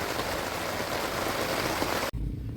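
Steady rain falling near a parked car at a wind turbine field on a hilltop, a dense even patter close by that cuts off abruptly near the end, leaving a brief low rumble.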